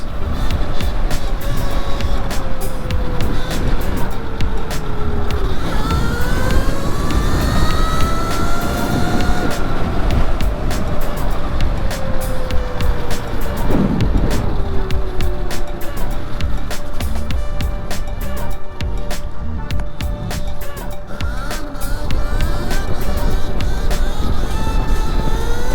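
A Razor MX650 electric bike fitted with a QS120 motor rides along at speed, its rising and falling motor whine sweeping up and down over continuous loud road and wind rumble, fairly close throughout.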